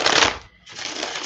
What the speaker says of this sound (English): I wonder how much time we waste shuffling.